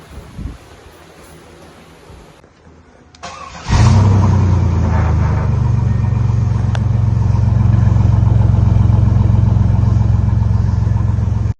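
A ZR2 truck engine starts with a sharp burst, then idles and runs loudly and steadily close by, with a low rumble and occasional revs.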